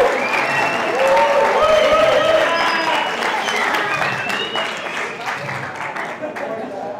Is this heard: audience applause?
yes